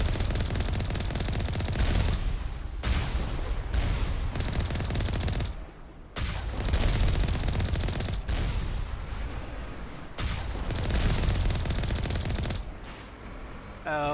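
Enemy turrets in Mass Effect fire sustained bursts of heavy automatic gunfire. The shots come loud and dense in long volleys, broken by brief gaps.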